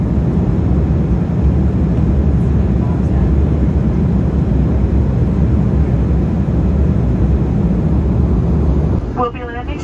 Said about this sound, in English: We've begun our initial descent into Charleston